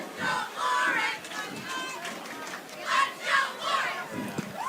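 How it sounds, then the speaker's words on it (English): At a high school varsity football game, a crowd cheers and chants in swelling, rhythmic bursts. Cheerleaders are leading the cheering, with shouting and children's voices mixed into the noise. "Cheerleaders trying to get the crowd into this one."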